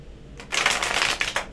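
A deck of tarot cards riffles through a quick shuffle, a short, crisp flutter of card edges lasting about a second, close by with no talk.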